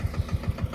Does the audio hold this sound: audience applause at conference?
no